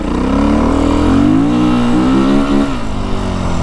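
A 2025 Beta 350RR X-Pro dirt bike engine revs hard and climbs in pitch under throttle, loud and close, then eases off slightly near the end.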